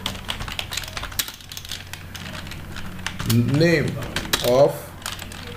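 Rapid clicking from a computer keyboard while a LaTeX document is typed, steady keystrokes running through the whole stretch, with someone speaking over the latter part.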